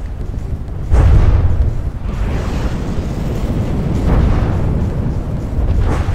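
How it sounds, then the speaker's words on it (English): Loud booming explosion on a combat robot in a robot-battle video game, a sharp blast near one second followed by rumbling, wind-like noise and another swell toward the end. "Another huge explosion on the GBASS."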